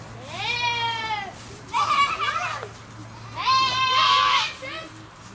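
Sheep bleating outdoors near Mont Blanc during a countryside walk, two drawn-out harmonic calls close by, with people talking and a voice around them.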